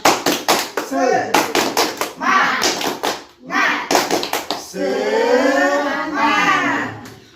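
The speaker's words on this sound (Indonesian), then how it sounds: "Baik, tepuk semangat" A group of mothers in a community parenting session performs a rhythmic spirit clap, bursts of synchronized sharp claps in patterned groups alternating with chanted group voices, ending in sustained singing-like chanting.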